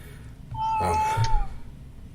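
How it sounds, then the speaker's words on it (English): A cat gives a single drawn-out meow lasting about a second, fairly close and clear over a low background hum, with no talking around it. "I hope you don't hear my cat shortly. I did."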